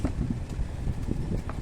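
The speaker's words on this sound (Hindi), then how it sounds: "कितना हवा चल रहा है" Wind blowing outdoors, a loud, close, rumbling gusty buffeting across the microphone that stays steady and continuous throughout, with no talking.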